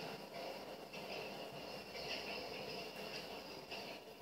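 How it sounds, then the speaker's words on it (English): Continuous broadband rumble and hiss of a train rolling past in a video game, steady and fairly loud throughout with faint high whine on top. "Come here, you train."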